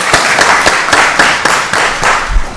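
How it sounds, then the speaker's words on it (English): Applause from the audience at a county board of commissioners meeting, loud and close, steady rhythmic clapping with distinct sharp claps repeating evenly throughout. "let's give her a round of applause"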